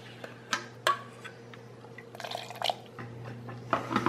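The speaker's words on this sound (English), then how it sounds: "let's add a little bit of water" Water is added to a protein ice cream mix in a kitchen, a few faint splashes and drips with a brief pour and some quiet liquid sloshing against a low steady hum.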